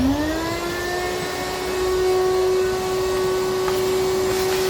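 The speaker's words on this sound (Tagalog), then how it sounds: "Okay, yun na natin itong vacuum." A vacuum cleaner sucks up shattered window glass from the front driver-side door of a 2024 Toyota Land Cruiser, its steady close whine rising slightly in pitch as it runs continuously with no talk.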